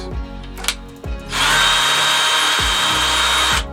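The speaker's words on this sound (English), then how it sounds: "we got to run the drill bit through it to make sure that they are 3/16." A few dull knocks, then a power drill whirs steadily at high speed for about two seconds, running a bit through 3/16-inch coat hook mounting holes in an RV, before spinning down.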